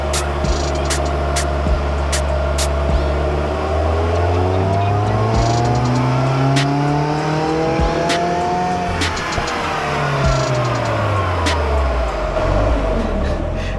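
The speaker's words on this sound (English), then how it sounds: "that's freaking amazing to hear your car from the outside" A car fitted with a Protune exhaust, heard from outside at Snail Performance in Arizona, its engine note sweeping up and down through steady revving passes, loud and continuous with no talk.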